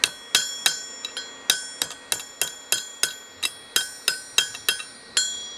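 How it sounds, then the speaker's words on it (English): Hammer strikes ring out on hot metal for a spear being flattened, sharp bright clanks in an uneven rhythm of about twenty blows, close and clear with short ringing decays and no talking. "we're going to start hammering this back flat"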